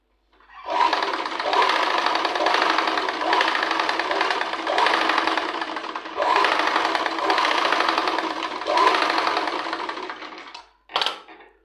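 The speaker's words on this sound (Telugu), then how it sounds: "ఒకసారి కుట్టి చూద్దాం మనం" A tailoring sewing machine stitches in several bursts of steady, rapid mechanical clatter with brief pauses between runs, close and loud, being test-run while a bead-stitch bobbin problem is checked; no one talks over it.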